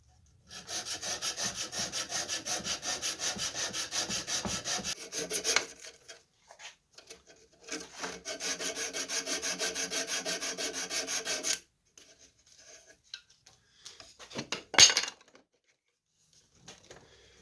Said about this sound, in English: I've got a piece of 60 grit sandpaper which I back with duct tape, and that's how I'm going to dress this down